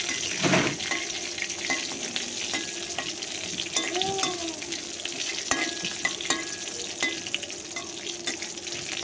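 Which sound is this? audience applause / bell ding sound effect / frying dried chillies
frying dried chillies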